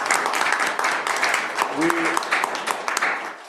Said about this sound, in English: I would like to hear a round of applause for the Bird Town Committee and everyone involved